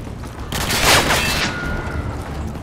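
Gunfire in Call of Duty: Modern Warfare 2, a brief burst of shots and rumbling blasts rising and fading over a couple of seconds against steady game background noise.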